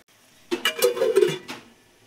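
A metal lid settles onto a pot of tomatoes cooking for chicken curry, giving a short cluster of clanks and scrapes lasting about a second, with a final light knock, close and fairly loud.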